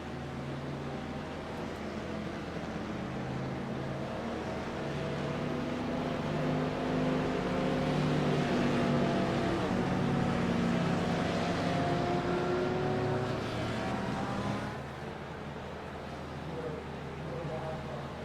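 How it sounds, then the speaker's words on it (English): A pack of GT3 race car engines drones steadily behind a Porsche pace car on a warm-up lap at Oschersleben, layered harmonic hums rising and falling as the cars roll past together, with a slight drop near the end. "All the cars are rolling as they begin their warm-up lap."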